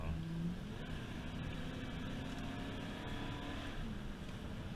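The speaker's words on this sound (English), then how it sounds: "Gonna go ahead and turn the cruise control off, and you'll see it deaccelerate really fast." A 1994 Ford F250 truck decelerating after its cruise control is switched off, a low steady engine and road drone with a faint falling tone, fairly quiet and continuous, with no talk.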